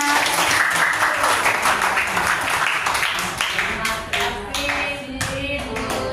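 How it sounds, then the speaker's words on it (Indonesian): Applause from a school audience at a kindergarten event, hands clapping steadily throughout with some voices mixed in, moderately loud and fairly close. "Mana tepuk tangannya?"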